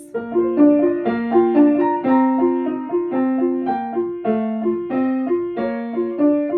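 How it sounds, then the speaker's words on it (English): Piano playing an Alberti bass, a steady broken-chord accompaniment in the left hand, with repeating low-middle-high-middle note patterns under a simple melody, clear and moderately loud. "Does your Alberti bass sound like this?"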